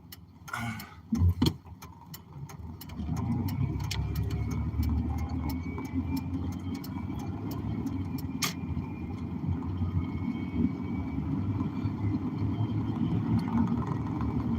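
A car passes on a nearby road as a steady low rumble of engine and tires that holds for many seconds, heard from inside a moving vehicle with a few sharp clicks and thumps at the start.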